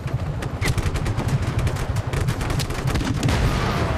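Gunfire in the Just Cause 3 action game crackles as rapid bursts of sharp shots, dense and loud, repeating in quick automatic volleys across the whole moment.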